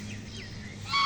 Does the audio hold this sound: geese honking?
yes